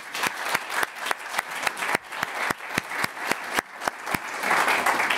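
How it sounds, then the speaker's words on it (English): At a university global oral health symposium, audience members applaud with sharp, evenly spaced claps standing out over a softer bed of scattered clapping that thickens toward the end. "I want to give a big round of applause to Terry Sonoda"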